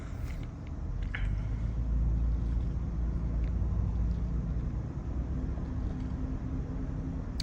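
A 2008 Toyota 4Runner driving through traffic, with a steady low road and engine rumble that holds evenly throughout, recorded from inside the vehicle with no talking.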